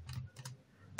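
Quiet keystrokes on a computer keyboard come in a few short clustered bursts separated by brief gaps, close to the listener and otherwise alone.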